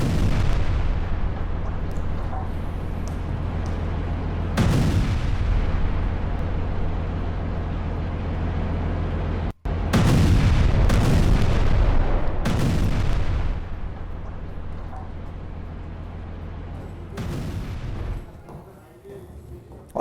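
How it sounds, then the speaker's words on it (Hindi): Heavy explosions from an airstrike bombing in south Lebanon boom one after another, several loud blasts with long rumbling tails over a constant low roar. "धमाकों से थर्राया पूरा दक्षिण लेबनान।"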